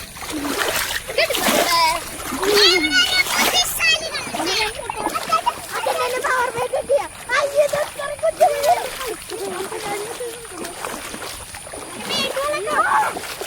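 Children play football in a flooded field, their feet kicking up repeated loud splashes and sloshing water close by, while kids shout and talk throughout.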